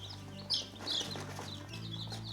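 Black australorp chicks on day four of brooding in a village near Lusaka, Zambia, giving soft clucks and peeps, a couple of brighter calls standing out over a low steady background hum.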